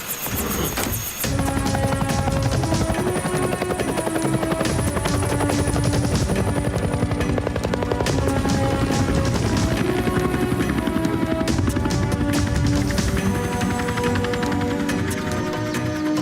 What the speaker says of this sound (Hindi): मैं आपके लिए हेलीकॉप्टर भेज रहा हूँ।